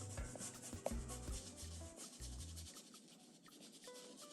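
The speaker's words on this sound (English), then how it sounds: "So I'm just going to go in here and scrub in some of this." A paintbrush scrubbing paint onto a surface for an underpainting in an art demonstration, quiet repeated rubbing strokes close up with faint background sounds.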